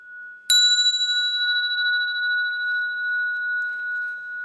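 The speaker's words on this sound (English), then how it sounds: "by ringing the bell we just calm down our mind and body." A Buddhist bell is rung once before chanting, a single clear metallic strike followed by a long, pure ringing tone that slowly fades, heard alone.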